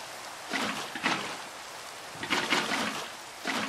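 Rain in Minecraft, a steady broadband hiss like water falling, swelling in soft repeated bursts over a few seconds with no one speaking.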